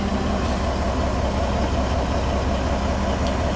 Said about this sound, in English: I've got the truck idling right now.